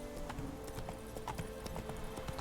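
Horse hooves clip-clop in a video game, a quick, even run of close hoofbeats over faint background sound.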